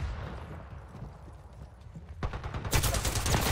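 Gunfire in the video game Apex Legends comes as a rapid burst of automatic shots. It starts with a few scattered pops and then swells into loud, dense firing near the end, with no speech.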